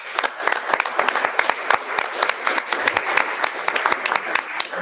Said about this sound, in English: Round of applause for the gentlemen.